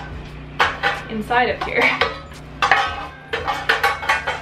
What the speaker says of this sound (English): I found these little mini loaf pans that will fit